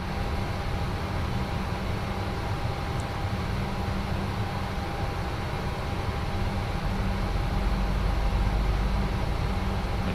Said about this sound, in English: Let's listen to some engine sounds.